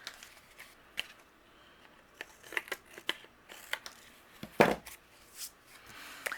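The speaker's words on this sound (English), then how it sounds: "using my longer scissors, I'm going to trim away the excess." Quiet snips of scissors cutting, a series of short crisp clicks at an irregular pace, close up in an otherwise quiet room.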